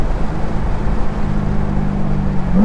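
A stock Chevrolet Corvette C7 Z06 with a 7-speed manual gives off a loud, steady low exhaust and engine rumble, close by and alone, holding an even drone throughout.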